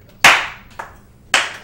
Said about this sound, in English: Yeah, we'll clap for you.